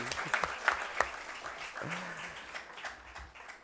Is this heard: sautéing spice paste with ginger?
no